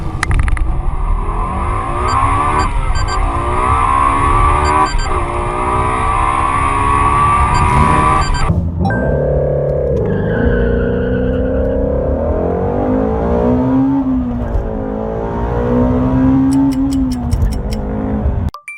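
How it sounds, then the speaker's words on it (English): A Ford Mustang GT350 on launch control holds a loud, buzzing high rev, then drops and surges through rising and falling engine pitch as it pulls away, close and alone. "It's the Ford Mustang GT350."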